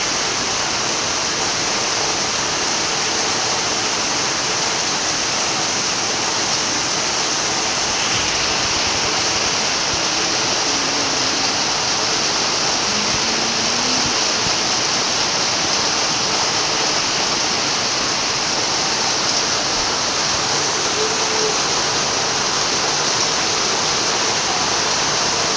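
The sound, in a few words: rainwater flowing down a channel in front of a house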